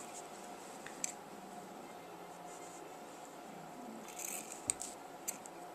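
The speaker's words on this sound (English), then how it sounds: "helps if you have sharp scissors" Sharp scissors snip through fabric strips in a quiet room, giving a few faint, isolated cuts separated by long stretches of low background hiss.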